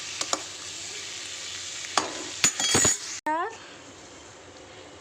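Tomatoes being stirred in a hot wok, a spatula scraping and clinking against the metal with a few sharp knocks over a steady oil sizzle, followed by a rising hiss as ingredients hit the pan.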